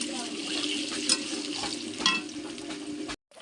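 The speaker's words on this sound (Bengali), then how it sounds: "এবার ডিমগুলো আমি ভালো করে ভেজে নেব" Country duck eggs fry in a wok with a steady, close sizzle and occasional stirring scrapes, cutting off abruptly near the end.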